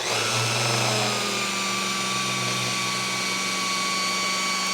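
Power polisher spinning at 1,500 RPM on a wet-sanded lacquer finish, a steady loud whine with a constant motor hum throughout, no pauses or talk.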